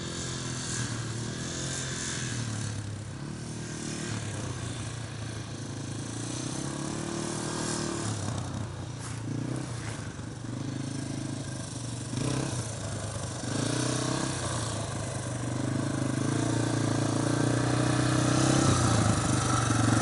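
A child's dirt bike engine runs steadily throughout, a continuous mid-pitched drone with slight shifts in throttle and growing a little louder toward the end, with no talk.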